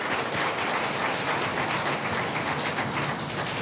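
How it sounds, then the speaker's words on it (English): Audience applause for the Governor General at a Senate swearing-in ceremony, a dense, continuous patter of many hands. It sounds somewhat distant and blurred, like a soft rain-like roar at an even level throughout. "Please give Her Excellency a round of applause"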